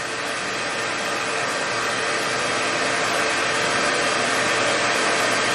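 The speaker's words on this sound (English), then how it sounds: "I like to turn the hair dryer on first and just sit it away from them" A hair dryer blows continuously at full power near goldendoodle puppies before their first bath, a loud, even rushing whir with no pauses or voices.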